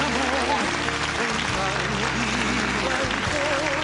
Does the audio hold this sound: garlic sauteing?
no